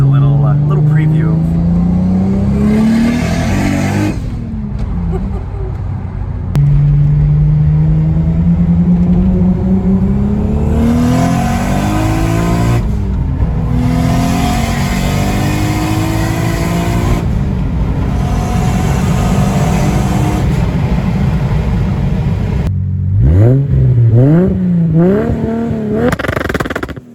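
A car with a built V8 revs hard during a ride, its engine roaring and climbing in pitch through several pulls and gear shifts, loud and close, with people talking over it.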